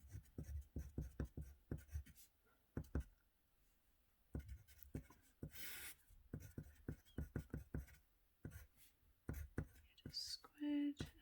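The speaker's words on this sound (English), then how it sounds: "So I'll just write out the previous work." Pen or pencil writing out maths working by hand on paper, soft scratchy strokes in short bursts with pauses, close and quiet, alternating with someone talking.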